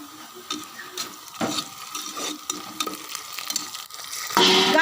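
Onions sautéing with coconut paste in a pan, a soft continuous sizzle broken by repeated scraping stirs of a utensil, rising to a louder burst of frying near the end.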